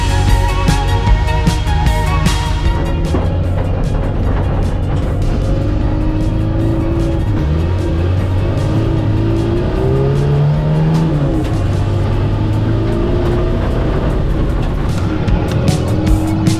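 A Renault 4L prototype race car drives flat out in a 24-hour 4L endurance race, its engine loud and close as it revs up and down through gear changes, with no talk over it.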